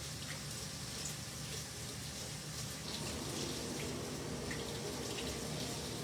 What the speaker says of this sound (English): Rinse it off real quick with some water